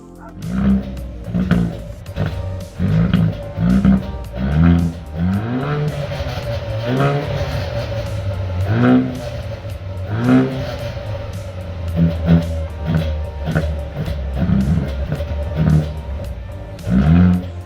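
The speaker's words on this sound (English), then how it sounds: "the second thing I like about this vehicle is how it sounds actually when it's in race mode" Exhaust note of a 2022 Haval H6 GT in race mode: the engine revs up again and again, each rise climbing in pitch before falling back to idle. The revs are loud and close and come through clearly with no talk.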